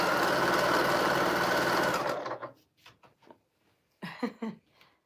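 A sewing machine runs steadily and close for about two seconds with a dense whirring buzz, its bobbin nearly empty, then stops, leaving brief quiet knocks and faint talk.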